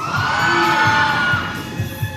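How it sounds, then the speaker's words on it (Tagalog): A crowd shouts and cheers at a team wrestling match, with dense, steady overlapping voices and a few louder whoops near the end. "Ang lakas ng sigaw"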